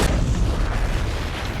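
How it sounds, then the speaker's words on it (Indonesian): A grenade explodes in a film with a loud, deep boom that rolls on as a dense, sustained rumble through the whole moment, with no pause or voices. "Ledakan dari granat sangat besar"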